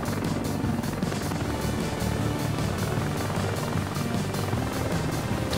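A helicopter in the video game Heliborne, with its hydraulics shot away, flies with a loud, dense, continuous rotor thrum and turbine roar, steady throughout and heard alone without talking.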